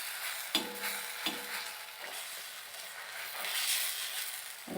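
Potato paratha batter cooks on an overly hot griddle, giving a steady close sizzle with a few brief scraping or stirring clatters and no talk.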